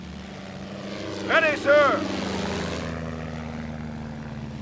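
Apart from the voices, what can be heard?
enemy aircraft engines incoming in video game Company of Heroes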